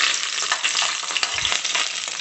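Green chillies and onions frying in hot oil on a stove give a steady, close, crackling sizzle with dense spitting pops throughout and no talking.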